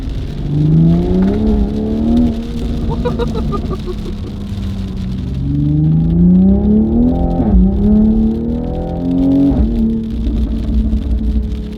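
A Toyota Supra engine revs at about partial throttle, its loud tone rising and falling through several swells, with voices talking over it.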